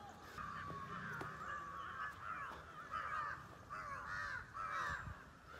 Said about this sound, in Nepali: कागको आवाज काग चराको आवाज